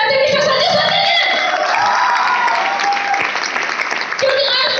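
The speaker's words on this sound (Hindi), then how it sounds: "मैं इसके लिए जोरदार ताली चाहती हूँ संजय सर के लिए" A large crowd at a training event in Nainital claps loudly and continuously, with whoops and cheering mixed into the sustained applause and a voice briefly audible through it.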